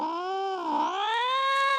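Cats fighting, one letting out a loud, drawn-out yowl that bends in pitch and then rises into a wavering caterwaul, close and clear against a quiet background.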